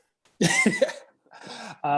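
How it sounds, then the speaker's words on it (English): A couple of close coughs and throat-clearing sounds during an online video call, followed by a short stretch of voice. "That was a cough, yes."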